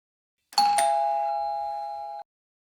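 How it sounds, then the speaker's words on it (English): A single doorbell chime, two quick tones struck close together that ring out and hold for about a second and a half before cutting off. "Now if we press the physical button, the doorbell rings normally."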